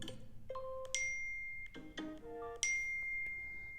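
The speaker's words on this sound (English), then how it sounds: "Now here you can change the mail notification." A series of bright chime and ding alert tones play one after another on an iPhone 16e, sampling different mail notification sounds, clear and close with no talking.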